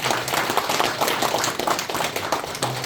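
An audience at a religious gathering in a Korean temple claps in a lively, uneven burst, hands beating in a brisk, overlapping patter that holds for a few seconds.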